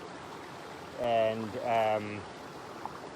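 A river flowing steadily outdoors in early spring, a constant close rushing wash of water running throughout, with a short spoken phrase in the middle.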